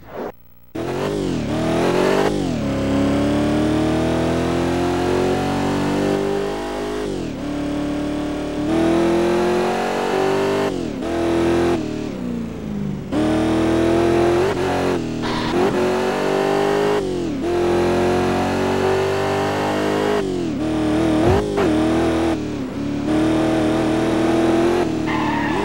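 Race cars in the PlayStation 2 game Corvette Evolution GT roar through a race, their engines revving up and down repeatedly as they overtake, with skidding tires and gear-shift drops, loud and continuous.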